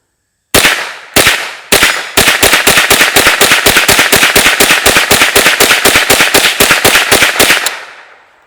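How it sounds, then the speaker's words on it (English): .22 rifle shots fired outdoors: three loud, sharp cracks spaced about half a second apart, then a fast, steady string of roughly two dozen close shots, each with a short ringing tail, and no voices. "22 rifle is a highly underrated firearm"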